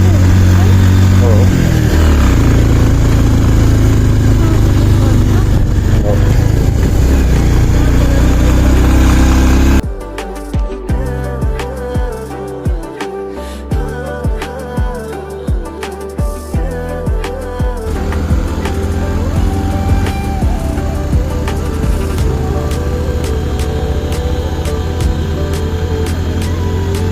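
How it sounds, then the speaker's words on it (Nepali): A motorcycle rides slowly up a mountain road between Jomsom and Muktinath; the engine drones and strains loudly and close, then shifts to a choppier, pulsing running sound, with no voices. "बाइक एकदम नतानेको अवस्था छ यहाँ चाहिँ, बाइक एकदम स्लो।"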